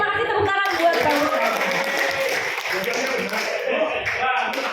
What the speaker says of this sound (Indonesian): tepuk tangan buat kamu